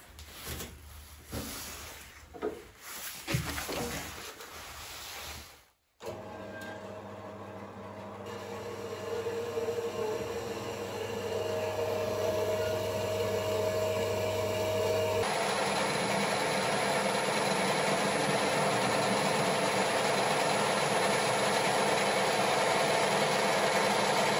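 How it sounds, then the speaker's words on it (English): A bandsaw cuts mild steel to length for a Bolens HT snow plow replica, a steady close grinding hum that starts after a few seconds of handling noise and a short gap, then grows brighter and harsher midway. "we've set it up in the bandsaw, ready to cut it to length"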